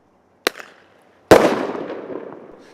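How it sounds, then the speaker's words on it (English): A police firecracker round fired into treetops to scare off roosting crows: a sharp loud crack, then a second louder bang with a rushing, crackling tail that trails off over a couple of seconds. "Firecracker round."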